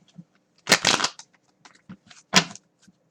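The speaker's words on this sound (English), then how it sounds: "I'm going to shuffle these cards here" Tarot cards shuffled by hand in a few quick riffling bursts, close and crisp, with short pauses and soft handling taps between them.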